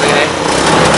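A car engine revving with the throttle body wedged open, a loud continuous buzzing drone held steady throughout, with no talk over it.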